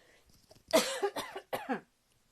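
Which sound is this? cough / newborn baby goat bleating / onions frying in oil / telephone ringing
cough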